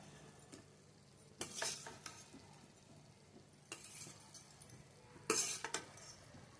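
Eggplant pieces being stirred into an egg masala in a pan, with a few scraping stirs and utensil clinks and a soft sizzle underneath, quiet overall with bursts of louder stirring.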